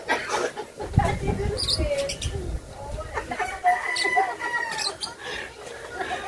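Chickens cluck close by with bits of crowing mixed in, scattered and irregular, while people talk over them.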